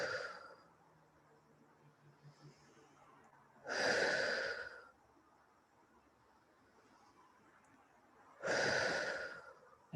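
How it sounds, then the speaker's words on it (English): Two hard, forceful exhalations, each blown out for about a second after a deep breath in, breathy and close, with quieter breathing between them and no words spoken. "take 3 deep breaths in and blow it out as hard as you can"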